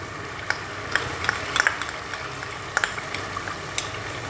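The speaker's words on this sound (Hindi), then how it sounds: "अब हम इसके अंदर अदरक लहसुन का पेस्ट डालेंगे।" Ginger garlic paste hits onions frying in a pan for chicken korma, bringing a steady sizzle with scattered spatters and clinks of a spoon against the pan.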